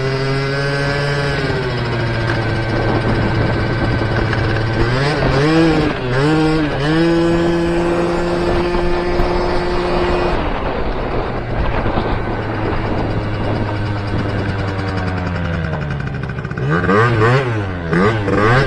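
A Yamaha Aerox scooter runs after an engine replacement, its carburetor still set too rich. The engine sounds loud and close, with a steady idle broken by several rising and falling revs.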